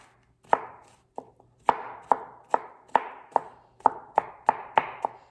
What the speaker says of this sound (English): I'm just gonna run my knife through it and just give them a chop.